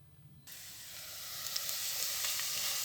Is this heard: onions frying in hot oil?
yes